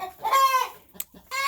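A rooster gives a few short clucking calls on a farm, close and fairly loud, with a quiet gap between the bursts.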